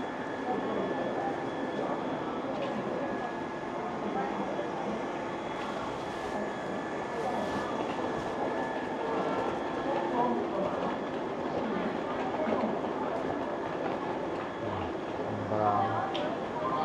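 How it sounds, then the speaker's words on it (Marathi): A Vande Bharat express, train 22488 from Amritsar to Delhi, rolls through Amritsar Junction with a steady broadband rumble and faint clatter, continuous and moderately loud, while people talk nearby on the platform. "Vande Bharat train Amritsar to Delhi."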